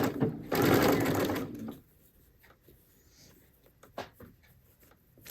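Sewing machine zigzag stitching elastic onto the edge of a kitchen towel, one loud burst of close stitching lasting about a second, then quiet with faint handling taps and clicks.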